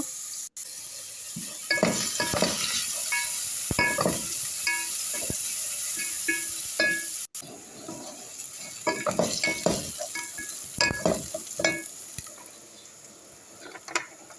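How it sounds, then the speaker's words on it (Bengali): Chopped onion and garlic fry in hot oil with a continuous close sizzle. Irregular spatula scrapes and metallic clinks against the pan break it up. No voices. "পেঁয়াজ এবং রসুন কুচিটা ভালো করে ভেজে নিব।"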